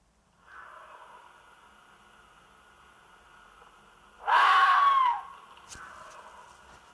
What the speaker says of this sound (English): Red fox scream for 10 hours.